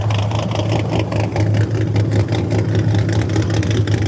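An American Gasser car engine running at a drag strip car show, a loud, steady, close rumble with a throbbing low idle and rough mechanical texture throughout.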